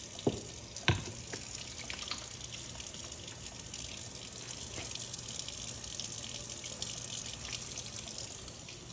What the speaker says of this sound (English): we gotta wash our hands too